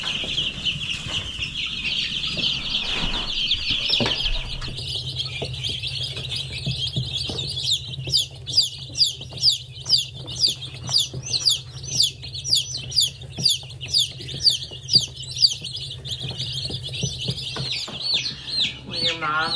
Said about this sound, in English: When your mom brings home 60 new chickens.